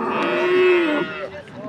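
Cattle at a livestock market let out one long, loud moo close by, rising and holding steady before trailing off into quieter market background.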